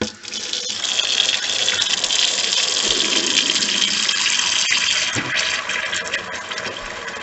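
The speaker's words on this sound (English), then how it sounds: "Let's try a little more water." More water runs into a blocked kitchen sink drain in a steady, close, fairly loud stream that continues throughout with slight gurgling.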